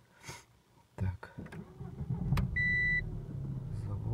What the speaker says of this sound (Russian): Есть какой-то звук в моторе, то есть шум такой, потрескивание.